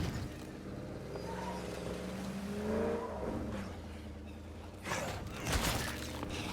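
Car driven through a zombie attack in State of Decay 2, engine rumbling and revving with harmonic sweeps, then a burst of impact and crunching near the end; game sounds mixed together.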